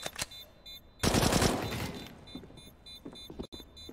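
Gunfire in a shooter video game: a sharp burst of rapid automatic shots that fades into a rumbling tail, with a few faint single cracks afterward, close and fairly loud.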